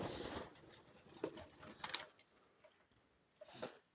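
A pet dove coos softly at bedtime indoors, a few brief low calls spread over a few seconds along with light rustling.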